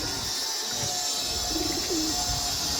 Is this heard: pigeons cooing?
yes